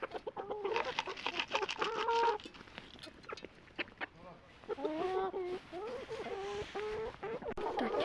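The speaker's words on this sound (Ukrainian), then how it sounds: "їдять курочки" Hens clucking and murmuring close by as they feed, a steady chatter of overlapping calls with a brief quieter pause midway, while a person talks over them now and then.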